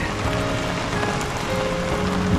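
Steady rain falls at a campsite during a spring cherry-blossom camping trip in Niigata, a dense, even patter of drops hitting surfaces nearby, continuous throughout with no voices.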